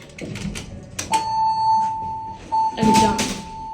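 Worn Montgomery/General Hydraulic elevator doors at a Bloomingdale's store slide and thud open, with a steady hum and a tonal beep during the movement and a voice talking over it.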